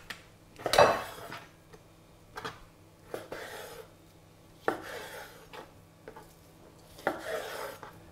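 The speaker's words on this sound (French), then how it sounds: "On va la débiter en morceaux." Knife chopping boneless lamb shoulder into pieces, a few separate cutting strokes and board knocks spaced out over several seconds, moderately close with quiet pauses between.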